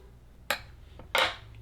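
Scissors snip through variegated yarn during a Valentine's card craft: two short, crisp cuts about half a second apart, close and clear against a quiet room, with no talking.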